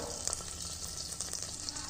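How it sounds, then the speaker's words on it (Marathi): Steady sizzling hiss of oil poured into a hot kadhai, close and continuous, with faint liquid splashes and no voices. "आता इथं आपण त्याच कढईमध्ये आणखी थोडंसं तेल ओतणार आहोत"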